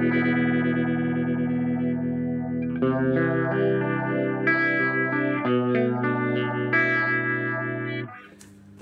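Electric guitar run through a Hotone Binary MOD pedal with pan (tremolo) and phaser modulation, one set slow and one fast. Sustained chords swirl and sweep steadily, loud and alone, fading at the end.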